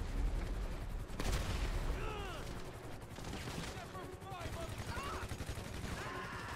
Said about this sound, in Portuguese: Tem alguma coisa atirando de cima.